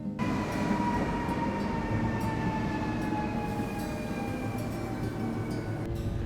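Steady rumble of a moving train, with a low continuous roar and faint high tonal whine, constant and close as if heard from inside a carriage.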